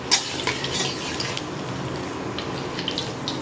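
Black cumin (nigella) seeds frying lightly in oil for a hilsa curry, with a continuous close sizzle, a few sharp clicks and light pan contact throughout, no talk.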